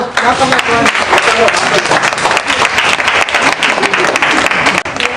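Sustained applause from an audience at an outreach event of the Liberia Albino Society, loud and steady clapping for about five seconds with crowd noise throughout.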